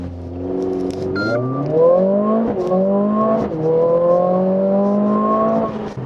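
A Mercedes-AMG CLA 45S 4Matic+ with its 2-litre engine launches hard in Sport Plus mode, engine pitch rising sharply through several gear changes, each upshift a quick dip before the note climbs again, loud and close.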